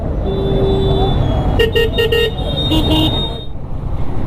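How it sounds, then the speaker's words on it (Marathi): Busy street traffic in Varanasi with several short car horn toots in quick succession over a steady roadway rumble, the honks clustered in the middle before fading back to engine noise. "ट्रॅफिक"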